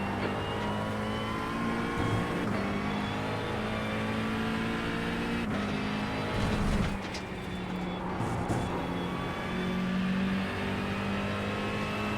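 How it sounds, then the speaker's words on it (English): A faster race car closes in and passes a McLaren 720S GT3 on track at Le Mans, its engine note rising over the steady onboard drone of the McLaren's engine, loudest around the pass before easing off. "There's a faster car approaching."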